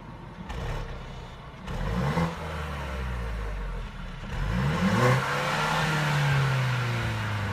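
A 2015 Mercedes C300 engine revs in its sportiest mode, with several rising and falling revs that swell to a sustained higher pitch, heard nearby without speech.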